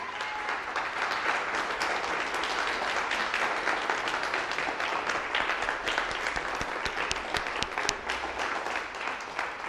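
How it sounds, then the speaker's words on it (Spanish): A congregation in church applauding loudly and continuously, a dense wash of many hands clapping that holds steady throughout. "Dale un fuerte aplauso al Señor."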